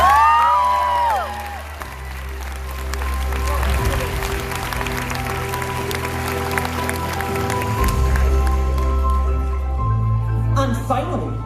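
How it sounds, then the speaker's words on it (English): Audience at the MCM Manchester 2019 cosplay masquerade breaking into applause and cheering, a sustained crowd wash with whoops, while a voice speaks near the start and music plays underneath. "Let's have a big round of applause."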